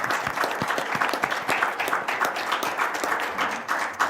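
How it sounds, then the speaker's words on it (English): A round of applause for a panel at a youth justice report release, a room full of people clapping steadily with individual claps audible, sustained for several seconds and trailing off. "So if I can have a round of applause for our panel."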